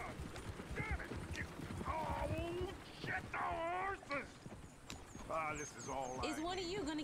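Horse hooves clip-clop steadily through a town in the video game Red Dead Redemption 2, mixed under frequent character voices and chatter.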